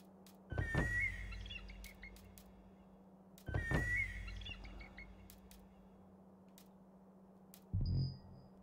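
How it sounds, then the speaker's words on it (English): Bird-like chirping cue from selecting a dragon in the game Assassin's Creed Valhalla, two short bright chirping bursts a few seconds apart followed by a brief high tone, over a steady low hum. "You hear this bird sound when you like select a dragon."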